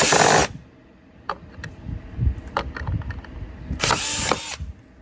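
A power drill backs screws out of an LED power supply, giving two short, loud whirring bursts at the start and end, with clicks and handling noises in between.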